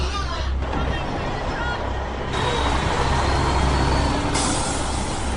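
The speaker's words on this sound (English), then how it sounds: "This is the third truck we've seen, and we've been here for less than 10 minutes." A truck with air brakes pulls up at a pig slaughterhouse on a hot day, a steady close engine rumble with a hiss of brakes partway through, under some talk.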